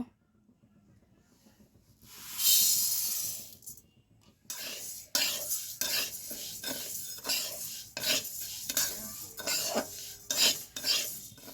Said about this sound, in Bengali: আমি 2 কাপ মুগের ডাল শুকনো খোলায় ভেজে নেব।